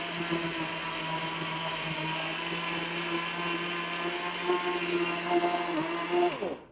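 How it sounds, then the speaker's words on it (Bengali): An ORPAT blender grinds rice into flour with a loud, even motor whine that holds steady for about six seconds before it winds down and stops. "এরকম ব্লেন্ডারে এরকম চালের গুঁড়া আপনি কোনো ব্লেন্ডারে করতে পারবেন না"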